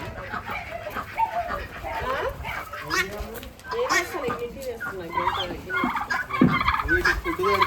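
Farm chickens gather for food, keeping up a busy chorus of clucks and gobbling calls close by, rising and falling without a break.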